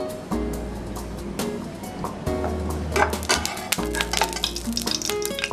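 Ghee sizzling and crackling in a hot kadhai already coated with oil, a steady close frying hiss with sharp pops throughout and a low rumbling undertone.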